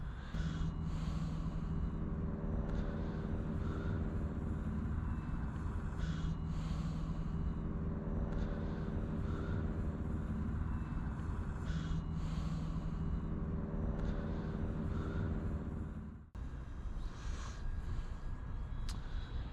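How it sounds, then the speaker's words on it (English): E-flite Valiant RC model airplane flying outdoors on a sunny California day on a 3-cell 2200 pack, its electric motor giving a steady, continuous drone with shifting pitch throughout, briefly dipping near the end. "doing some flying with my E-flite Valiant for you guys"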